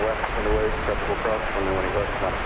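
An American Airlines jet airliner at DFW airport, a steady loud roar of jet engine noise held throughout while a person talks over it.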